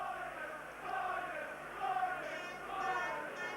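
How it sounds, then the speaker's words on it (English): A vociferous rugby league crowd at Headingley, Leeds, keeps up a steady roar of broad cheering and chanting that swells in waves, with commentary talk carried over it. "And a vociferous crowd backing them here at Headingley."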